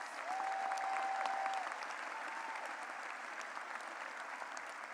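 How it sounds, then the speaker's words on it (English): Audience at a high school graduation ceremony applauds steadily, a dense sustained wash of clapping from a large crowd that holds evenly for the full stretch without any talk over it. "May we give you a round of applause."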